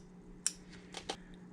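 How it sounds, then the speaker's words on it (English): Scissors snip a few times in quick succession, short crisp cuts close by over a faint steady hum. "You're just going from the corner of the cutout and trimming right up to the end of your"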